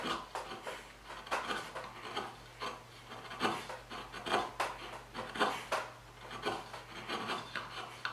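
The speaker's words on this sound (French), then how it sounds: "Je commence d'abord avec un ciseau." Hand tool working a truss rod groove in wood for a baritone guitar neck, rounding the end of the channel: repeated rasping, scraping strokes in an irregular rhythm, close and moderately loud, with no talk.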